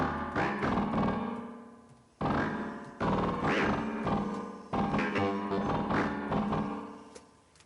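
A Korg Volca Modular synthesizer plays a Talking Droid patch: a series of burbling, warbling electronic notes, each starting abruptly and decaying, four main phrases in quick succession, fairly quiet.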